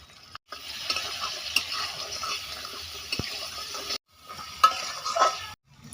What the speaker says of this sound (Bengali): আমি দুটো আলু কেটে রেখেছি, ছেড়ে দেব আলু, দেব 1 চামচ লবণ